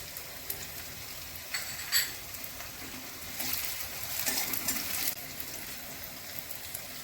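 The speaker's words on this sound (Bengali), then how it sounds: "এবার আমি পেঁয়াজ কুচি দিয়ে দিচ্ছি, সাদা তেলে করছি," Chopped onion fries in white oil and butter, a steady sizzle with occasional scraping and stirring clatters from the pan, close up and without voices.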